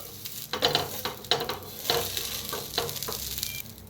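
A mixed-dal and potato dosa is flipped on a hot pan and keeps frying, with a continuous close sizzle broken by several scraping and tapping bursts of a spatula against the pan.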